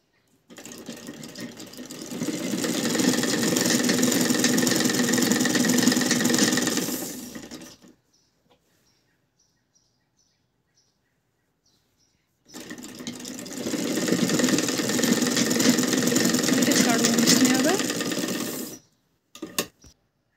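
A sewing machine stitches a fabric divider in two long, steady runs of about seven seconds each, separated by a quiet pause and followed by a brief final burst.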